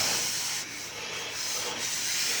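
Sandpaper scrubs across a surface in close, steady rasping strokes, a dry continuous hiss that dips briefly between passes, with no talking.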